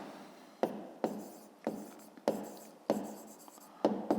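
Pen scratching on paper while working a fifth-grade maths exercise, a series of about seven distinct strokes each starting sharply and trailing off, close and fairly quiet, with no talk over them.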